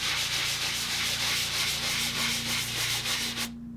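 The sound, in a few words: lightly sanding around the edges of a repaired ceiling crack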